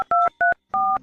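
Three clear dual-tone telephone keypad beeps, close and loud, evenly spaced with short silences, the last with a faint low hum beneath.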